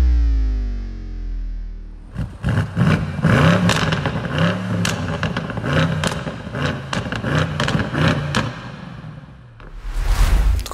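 BMW M850i with its 4.4-litre twin-turbo V8, revving repeatedly from about two seconds on, loud and close with a rough, clattering edge, preceded by a low swelling hum and ending on one more burst of engine noise.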